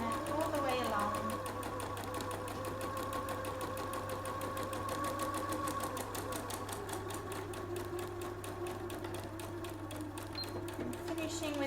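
A sewing machine stitches a long seam along fabric, its needle chattering in a fast, even, continuous run from start to finish while a person talks over it.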